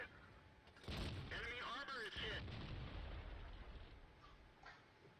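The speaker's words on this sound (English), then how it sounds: "We managed to put a shot into the FV201 over there." Tank cannon fire in a tank combat video game with the FV201 A45, with heavy booming shots near the start and a couple of seconds later, each followed by a rumbling tail that fades over low background noise.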